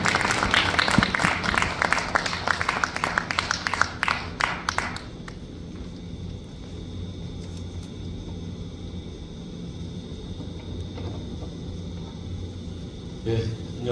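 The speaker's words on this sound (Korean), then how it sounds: "박수로 환영하면 좋겠습니다." Applause at a Korean prayer meeting for world peace welcomes a speaker, a burst of clapping in a hall for a few seconds that fades into low room rumble and quiet murmurs.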